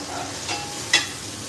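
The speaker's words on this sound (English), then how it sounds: "That will give us a nice sizzle that we're looking for." Onions sizzle faintly in hot olive oil with a soft crackle, followed by a brief clink and a stir in the pan.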